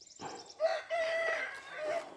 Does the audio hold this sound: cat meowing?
no